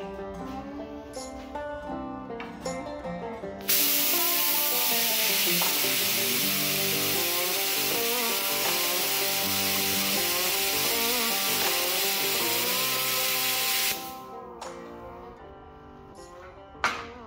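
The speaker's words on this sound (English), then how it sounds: "Xcel-Arc sell the consumables so you can turn this into a gouging torch" Xcel-Arc Razorcut 45 plasma cutter fitted as a gouging torch, blasting a continuous loud, broad hissing roar into steel for about ten seconds, framed by quieter shop noise before and after.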